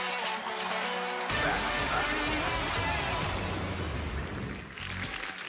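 A studio audience on the X Faktors TV talent show gives a singer a loud ovation. Sustained applause and cheering begin as the music cuts off and fill the rest of the clip.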